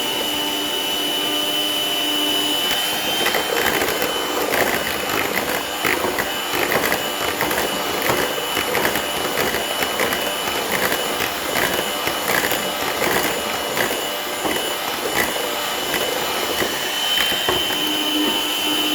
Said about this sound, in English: for this one, I use the machine so that it will mix well